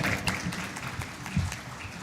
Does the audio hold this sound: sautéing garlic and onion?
no